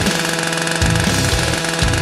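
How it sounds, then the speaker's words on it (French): A chainsaw cuts into a giant egg for a giant versus tiny food challenge, a loud continuous engine drone with rough knocking pulses as it bites, and no talk. "Ou peut-être avec une tronçonneuse."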